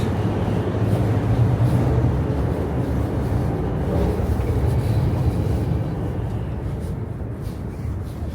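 Steady low rumble and rushing noise from inside a Chinese high-speed bullet train between Hangzhou and Suzhou, continuous and even throughout with no voices.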